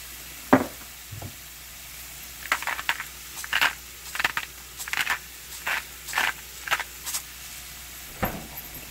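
Chicken and vegetables for a stir fry sizzle in a pan, with a faint hiss under a string of clattering stirs and scrapes, loud and close, and no talking.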